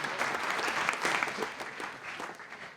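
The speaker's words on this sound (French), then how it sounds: "je crois qu'on peut l'applaudir" Audience at a management school conference on business and ecological transition applauds a public-authority representative, a dense, steady wash of many hands clapping at moderate distance, sustained without a break.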